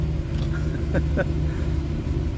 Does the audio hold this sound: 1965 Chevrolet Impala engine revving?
yes